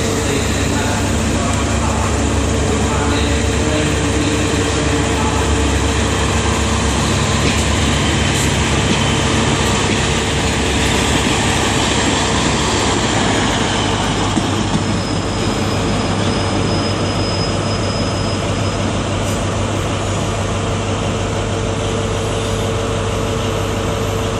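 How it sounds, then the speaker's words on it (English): An Exeter Central train passes through Exeter St David's station on the Great Western Main Line in the late evening, a loud sustained rumble of wheels with a thin squeal rising midway, continuous throughout. "That's the Exeter Central train that was"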